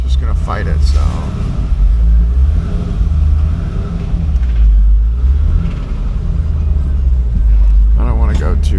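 2003 Chevrolet Corvette with a bent wheel, rolling along with a loud, continuous low engine rumble, while a voice talks over it.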